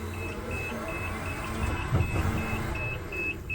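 Toyota 8FBMKT30 3-tonne electric forklift driving, with a steady train of high reversing beeps at regular intervals over a low motor hum and some background noise.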